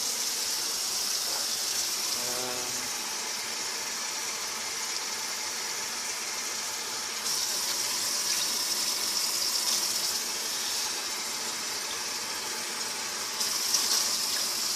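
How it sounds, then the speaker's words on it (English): Water poured from a tap or jug into a stew pot to top it up, a steady close rushing gush that runs the whole time with a few louder surges, no talk. "I'm just going to top up with a bit more water now."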